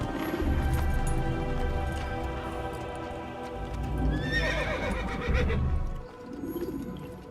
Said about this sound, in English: He gets on his horse and begins the long travel there.